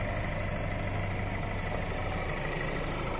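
A Cadillac ATS with the 2.0 turbo engine idling, a faint steady low hum with a constant drone and no speech.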